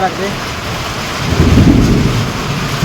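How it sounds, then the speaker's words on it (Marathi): Heavy rain pours steadily during a thunderstorm while a deep roll of thunder builds and rumbles loudly through the middle and end, close and enveloping, with no talking. "वीज पण जोरात"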